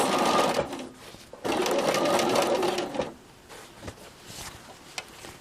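A sewing machine runs close up, stitching binding onto a quilt in two long steady bursts of whirring, then stops, leaving faint handling clicks and a brief tap.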